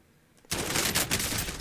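Automatic gunfire in Call of Duty Warzone starts abruptly after a brief quiet moment, a loud, dense burst of rapid shots that continues to the end.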